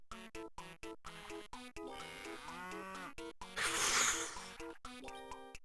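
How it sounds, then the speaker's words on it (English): Cartoonish cow moo sound effect in a Game Boy game, several short synthesized moos and a longer drawn-out lowing in a choppy rhythm, with a burst of noise in the middle. "Put a moo cow sound in"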